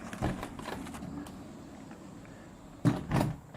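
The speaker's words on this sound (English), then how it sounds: "the doors fold back" Folding accordion doors opening onto a sunroom deck make a few soft knocks and rattling clunks as the panels fold back. A quieter stretch of low rumble sits between the knocks, and there is a firmer bump near the end.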